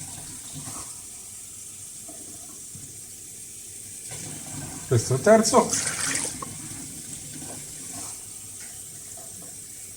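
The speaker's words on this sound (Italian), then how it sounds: "andiamo a mettere 5 bicchieri di acqua" Water is poured from glasses into a cooking pot for pasta, a splashing burst in the middle over a quiet kitchen background, with a voice speaking briefly.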